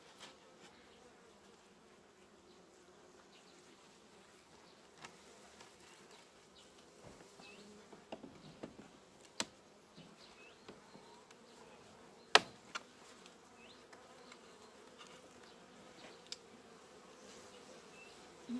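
Honeybees at a hive in September make a faint, low, continuous buzz close by, broken by scattered light clicks and knocks as hive frames are handled.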